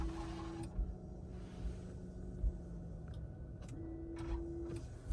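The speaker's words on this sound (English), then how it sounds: "on the back of the car is that spray nozzle to clean the camera" Washer spray nozzle squirting fluid over the rear camera of a 2022 Toyota Highlander Hybrid Platinum, a faint hiss with short mechanical ticks and a low pump whine, close by over steady background hum.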